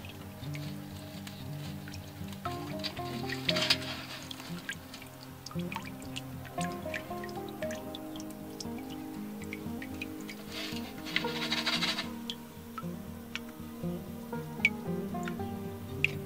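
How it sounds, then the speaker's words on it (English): Melted beeswax drips slowly through a strainer, small irregular drips and soft squishy liquid sounds scattered over a quiet background, close and faint, with no voices. "Still a little bit of wax dripping through there."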